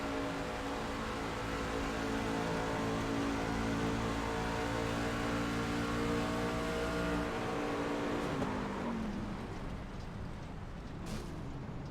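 Onboard engine of the number 1 race truck in a Red Light Scrambler Series race at Chicagoland, a loud steady drone with strong harmonics that holds, then drops in pitch near the end as the truck lifts off.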